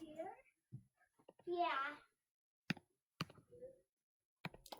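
A toddler babbles and squeals in short bursts in the background, with a longer rising-falling vocal run in the middle and scattered clicks and bumps between the outbursts.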